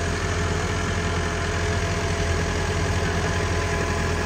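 A tractor engine idles close by in a constant, dense low rumble with a steady mechanical throb and no change in pace, alone without speech.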